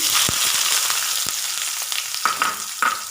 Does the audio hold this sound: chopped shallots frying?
yes